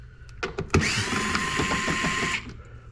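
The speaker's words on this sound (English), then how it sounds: "I've got 8 millimeter hooked up to my screwdriver here, and we're gonna take this cap off" Power screwdriver with an 8 mm bit backing screws out of a cap on a 2023 Mini Cooper S, a few short clicks and taps then one close, whining motor burst of about a second and a half.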